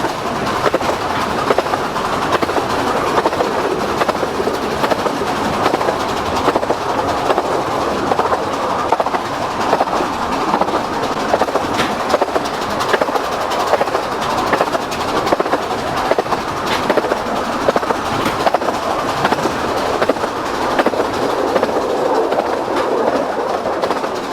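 A narrow gauge steam train on the Kirklees Light Railway rolls steadily along, wheels clattering in a rhythmic clickety-clack with a constant rumbling hum, heard from inside a carriage.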